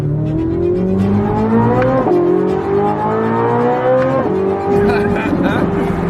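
A brand new Corvette Z06 engine revs hard toward its redline during a drag race against a Ford GT, loud and close, climbing through repeated gear shifts with a brief tire squeal, while a voice talks over it.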